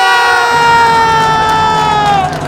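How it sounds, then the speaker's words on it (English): Arlington High School fans roar from the stands at Mary Pierce Field after a boys varsity soccer goal against Woburn, a sustained loud crowd cheer with a steady horn-like tone running through it. "the capacity crowd allowed is on their feet as the Arlington fans go wild"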